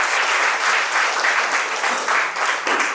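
An audience at a motivational speech claps steadily for a few seconds, a dense wash of hands with slight rises and falls, loud and close.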